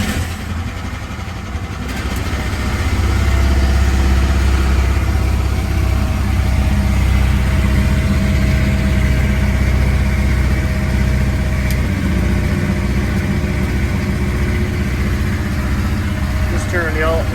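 A Mini X mini excavator's diesel engine cranks over and settles into a steady, loud, continuous idle, with a low droning rumble that holds on from start to finish.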